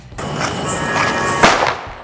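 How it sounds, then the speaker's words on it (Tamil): A paper firecracker goes off with a sharp, loud crackling burst that builds into a hissing, sizzling spray, followed by one sharper bang near the end before it fades. "இது ஒரு மாதிரி பேப்பர் வெடி."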